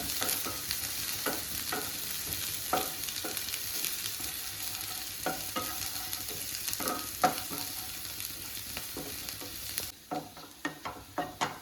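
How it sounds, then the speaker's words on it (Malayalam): Sliced shallots and dried red chilies stir-frying in hot coconut oil, a continuous close sizzle with irregular spatula scrapes and clacks, ending in a quieter run of sharp stirring taps, with no voices. "വെളിച്ചെണ്ണ നന്നായി ചൂടായി വരുന്ന സമയത്ത് അരിഞ്ഞു വെച്ചിരിക്കുന്ന ചുവന്നുള്ളി വറ്റൽമുളക് ഇതൊക്കെ നന്നായിട്ട് ഇളക്കി കൊടുക്കാം"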